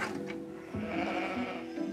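Pregnant ewes bleat in a farm lambing shed during the first week of lambing, giving one wavering, nasal call after another that sits close and clear over faint shed noise.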